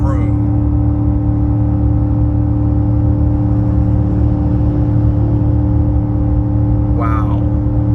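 A Ford F150 with the 5.0L Coyote V8 tows a trailer up a 6% grade while holding third gear, its engine a loud, constant droning hum heard from the cabin, with a brief voice near the end.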